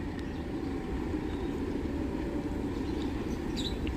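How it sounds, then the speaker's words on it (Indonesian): A heavy, long train hauled by a CC201 diesel locomotive rumbles past close by, a steady, loud low-frequency roar with no break, with faint metallic squeals near the end. "Oke, ini dia keretanya pakai CC201 nih."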